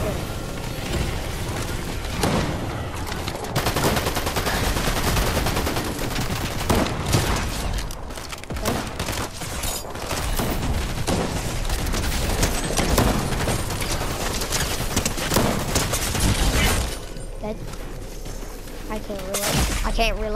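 Dense, loud gunfire from a zone wars video game, with sustained bursts and impacts overlapping almost continuously and a brief lull near the end.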